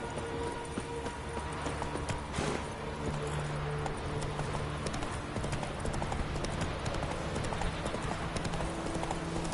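Roach, the horse in The Witcher 3 video game, gallops with steady, rapid hoofbeats that continue throughout, loud and close over a dense game soundscape.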